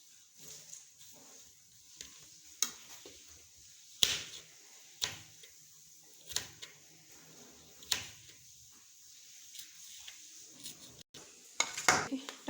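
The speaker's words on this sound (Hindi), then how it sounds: "ये टमाटर काटेंगे।" A knife chops tomatoes on a cutting board, giving sharp, separate clicks and thuds at an uneven pace over a quiet kitchen background, close to the microphone, with occasional clinks of dishes.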